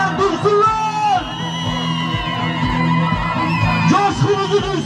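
Crowd at an election office opening in Hilvan cheering, yelling and ululating, loud and close, with overlapping shouts and whoops that swell and fade throughout.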